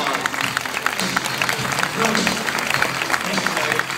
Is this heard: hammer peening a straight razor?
no